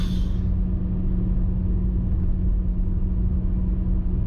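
A 2013 Honda Accord cruising on the highway produces a steady low road rumble and engine drone from inside the cabin, even and unbroken with no talk.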